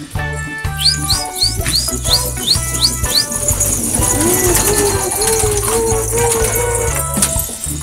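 Pigeons in a loft of about forty birds give short chirps and low, wavering coos over steady background noise, with other sounds mixed in.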